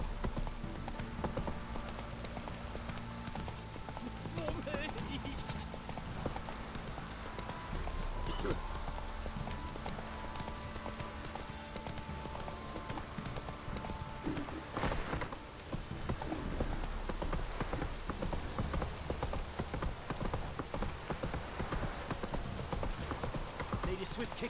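Hooves of the horse Roach clip-clop steadily in The Witcher 3, a continuous rhythmic trot with rain pattering around it, a brief whinny, and a voice speaking over it at times.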